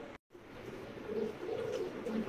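Giribaj racing and coloured pigeons coo softly and close by, with a few low throaty coos rising and falling after a brief cut of silence at the start.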